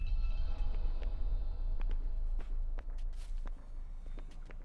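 Footsteps in the video game Forspoken tread softly in a steady walking rhythm, faint against a low rumbling background, with no speech.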